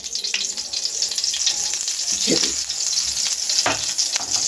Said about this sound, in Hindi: 1 कप मैं घी डाल रहा हूँ।